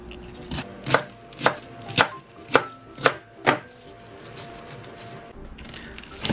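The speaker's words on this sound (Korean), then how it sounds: "반으로 썰어주고요. 반에서 또 반으로 썰어주세요." A knife chops through cabbage on a cutting board in six evenly spaced, sharp thuds, close and loud, followed by quieter handling noise.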